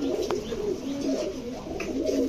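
Khaki pigeons with red eyes coo softly and continuously at close range, a low rolling murmur of several birds with no talk.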